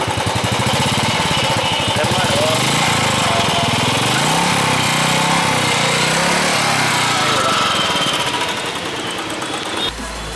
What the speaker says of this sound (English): So now let's check out the exhaust note of this Classic 350.